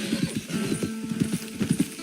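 Horse hooves clip-clop in Red Dead Redemption 2 near the town of Rhodes, a quick, uneven rhythm of close hoofbeats for about two seconds with no talking over them.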